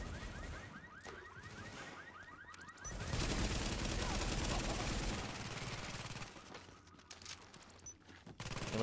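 Gunfire in Tom Clancy's The Division, with rapid automatic bursts and a dense stretch of sustained shooting, set among scattered clicks and electronic beeps.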